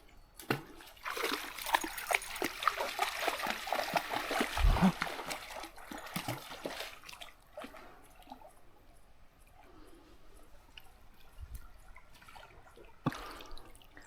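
Dogs swim and splash in water, with busy splashing and sloshing in the first half, then quieter drips and occasional splashes near and at moderate volume.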